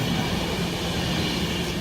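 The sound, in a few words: Virgin Trains Pendolino train passing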